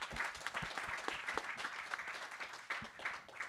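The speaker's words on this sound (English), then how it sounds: "Let's give Dr. Nyeka a round of applause" Steady applause from a conference audience, many hands clapping continuously, moderately distant and filling the whole stretch with no voices above it.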